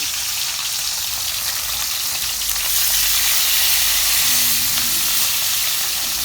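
Food sizzles and fries steadily in a pan set over an open wood fire, a loud continuous crackling hiss with a faint hum beneath and no talking.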